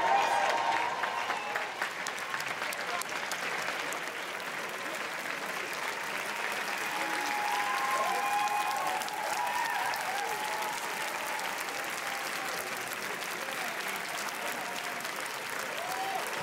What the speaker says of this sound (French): écoutez les applaudissements qui viennent de tous les coins de cette immense salle lumière